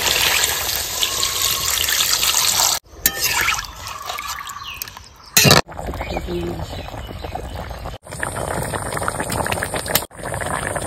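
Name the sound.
pouring water broth into rohu fish curry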